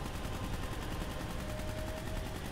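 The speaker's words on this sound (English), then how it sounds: "I can still hear someone shooting too." Steady video game gunfire rattles on without pause, a continuous run of automatic shots that sounds somewhat distant and washed together, with no talking over it.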